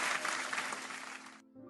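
A short burst of clapping on a live day-trading stream, a bright steady patter that cuts off abruptly near the end, leaving a faint hum.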